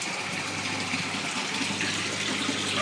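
Water runs continuously during a water change and filtration for a tank of tilapia fry, a steady, even gushing and splashing close by with no pauses and no voices.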